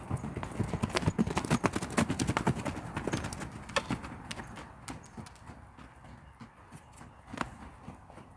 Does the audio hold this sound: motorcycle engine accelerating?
no